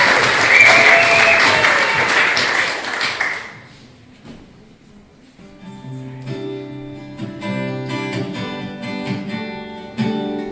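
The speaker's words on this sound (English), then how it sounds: "So give them a big round of applause." An audience at the Crossley 15 Minutes Fame talent show applauds Joseph Lim and his band with loud, dense clapping for about three seconds; it dies away and the band's music starts, with steady chords.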